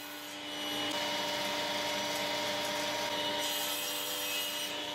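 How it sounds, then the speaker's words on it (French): A power saw cuts through wooden pieces two at a time for cabinet door fronts, a continuous loud whining buzz held steady after a short ramp-up. "J'avais commencé par couper les bouts de bois un par un et puis j'ai décidé de les couper 2 par 2"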